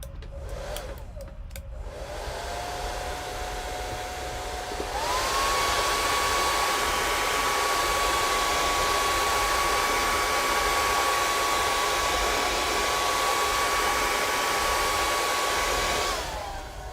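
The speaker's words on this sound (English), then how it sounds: "I'm going to get the dryer on it very, very quickly" A hair dryer whirs steadily at close range, switching to a higher, louder setting partway through and running for several seconds before cutting off.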